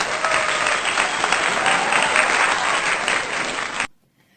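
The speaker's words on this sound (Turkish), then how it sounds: "Moral alkışımızı da aldığımıza göre" Dense, loud applause from a crowd claps steadily for nearly four seconds and then cuts off abruptly into silence.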